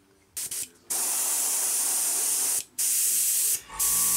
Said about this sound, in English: randomly spray through some of the holes that I have just put down